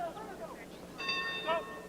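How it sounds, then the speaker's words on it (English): Round bell at a 1995 boxing match, Jose Barboza against Frankie Randall, two short metallic rings in quick succession over faint arena background. "As the bell sounds."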